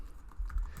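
A short burst of a few close, light keystrokes on a computer keyboard as an IP address is entered, quiet and alone.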